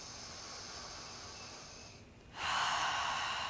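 Steady, quiet breathing during a yoga flow, a long soft exhale followed by a sharper, louder inhale through the nose, heard close and alone.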